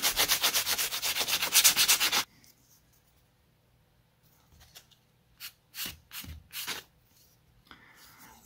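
Rough scraping as the coarse side of a sanding block is rubbed back and forth on part of a Dumas Chippy model aircraft's empennage. The rapid, loud strokes stop abruptly, and then a few softer handling rubs and taps follow.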